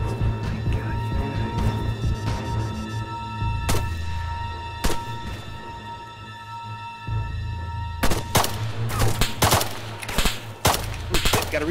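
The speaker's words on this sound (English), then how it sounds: "I hear shots." Gunfire in the military shooter game Arma 3 during a battle royale match: scattered sharp single shots, then a denser flurry of cracks near the end, over a constant low game drone.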